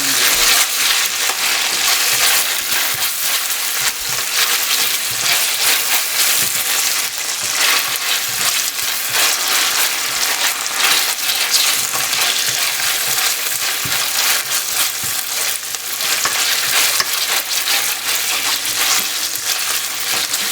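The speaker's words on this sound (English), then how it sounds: "The onion has to saute and get to a little bit of a brownish color in there as well." Onion sautes with ginger garlic paste in a pan for fish curry, giving a loud, continuous close-up sizzle and crackle with occasional stirring scrapes and no pauses.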